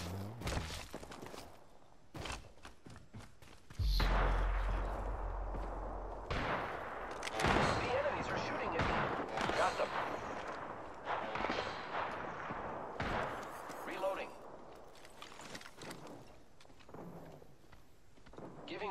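Gunfire in the shooter game Apex Legends, with repeated sharp shots and bursts throughout, footsteps and movement clatter between volleys, loud and close.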